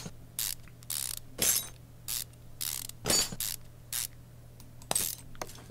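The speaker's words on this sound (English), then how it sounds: "and now we can take off the timing belt cover" Timing belt cover being removed in Car Mechanic Simulator 2015: a series of short, separate ratcheting and mechanical clicking bursts, about a dozen spread unevenly over a low steady hum, with no talking.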